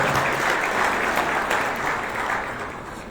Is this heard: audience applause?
yes